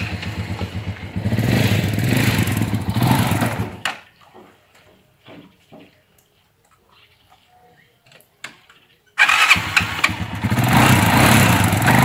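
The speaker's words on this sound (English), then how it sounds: "Isu will be riding with Jibis Allah while I'll be taking this other bike and follow them wherever they are going" A motorcycle engine runs loudly at close range on a trip to a rice field in the Gambia, cutting out after a few seconds and then roaring back up near the end, with quieter ambient sounds in the gap.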